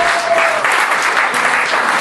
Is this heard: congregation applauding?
yes